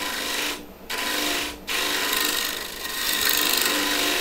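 Hand rasping wood to carve a shallow curve into the end of a wooden platter, a steady close scraping rub with two brief pauses, growing slightly louder toward the end, no talking.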